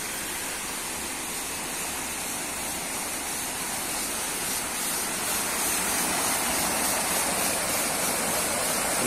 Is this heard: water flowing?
yes